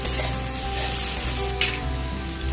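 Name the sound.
beans frying in a pan on low flame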